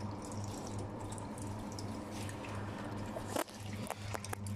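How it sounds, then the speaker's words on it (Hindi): Water runs from an airport washroom tap in a steady, continuous flow with faint drips on top, held close against a low background hum, with no talking. "ये टूटी से पानी भी अभी पिया"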